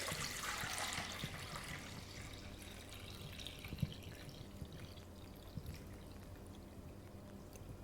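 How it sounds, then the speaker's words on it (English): Water pours off settled white bean paste in a soft, steady splashing stream that fades to a quieter trickle, with faint drips near the end. "pour out the water on top"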